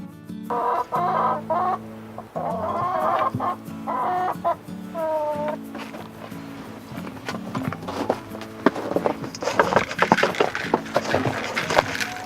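Chickens clucking and crooning close by in a series of calls, followed by scratching, shuffling and footsteps on a wooden floor.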